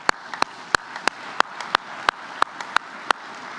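Applause at a university faculty and staff convocation, with sharp, evenly spaced claps about three per second standing out over a softer crowd wash.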